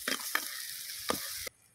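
A spoon scrapes and stirs ginger-garlic paste frying in a pan for chicken egg curry, a few distinct strokes over a steady frying hiss until it cuts off.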